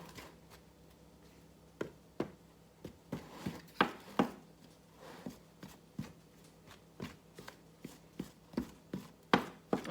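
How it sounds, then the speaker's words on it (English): Dumpling dough with evaporated milk being worked in a bowl, giving soft, irregular taps and squelching knocks that come in uneven clusters, close and quiet, with no talk. "I'm just going to add a little bit at a time and start mixing my dough for my dumplings"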